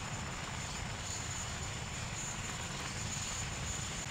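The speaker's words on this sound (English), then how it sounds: "Let's take out the MI-35." A Mi-35 attack helicopter in the war video game Call to Arms gives a loud, steady engine roar with a fast low rotor thumping underneath, continuous and close throughout with no voices.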